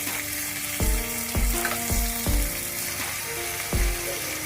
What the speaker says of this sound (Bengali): তেলটা গরম হয়ে গেলে এবার চিংড়ি মাছগুলো এর মধ্যে দিয়ে দেবো এবং কম আছে 3 থেকে 4 মিনিটের জন্য এটা ভেজে নেব